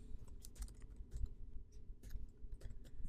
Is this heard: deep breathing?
no